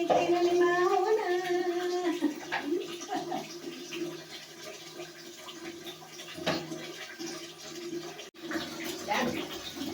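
Water splashes and runs during a bath of Pochita the dog, with sloshing and pouring over a background of voices talking throughout.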